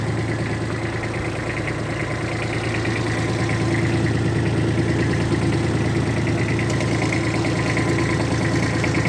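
A small tractor engine idles steadily and evenly, with a deep continuous rumble that stays loud and close throughout, no talking over it.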